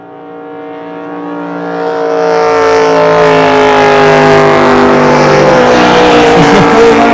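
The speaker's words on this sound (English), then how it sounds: "500 cubic inch alcohol injected motors" Pro stock racing boats with 500 cubic inch alcohol-injected motors roar past at a Thanksgiving regatta, the engine drone building from moderate to a loud, sustained harmonic howl that holds steady to the end.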